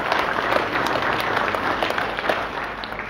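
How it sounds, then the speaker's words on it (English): Audience at a cattle production auction for Boran breeding stock claps steadily, a dense, even wash of applause that holds at full strength for about three seconds with no talk over it. "I think we can put our hands together and give them a nice applause"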